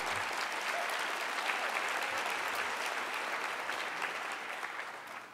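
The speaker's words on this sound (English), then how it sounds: "That deserves a round of applause." Sustained applause from an audience in a theater at a city's State of the City address in Cleveland, steady dense clapping that holds throughout and tapers slightly at the end, heard alone without talk.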